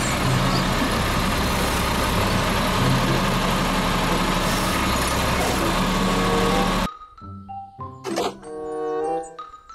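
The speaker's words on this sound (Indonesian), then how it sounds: "Mobil truk sampah." A toy garbage truck plays a loud, rough, rumbling engine sound that runs steadily for about seven seconds and then stops abruptly. A voice speaks briefly afterward.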